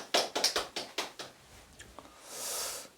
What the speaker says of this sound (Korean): 첫 예배를 드리게 하신 우리 하나님께 감사의 영광의 박수를 올립니다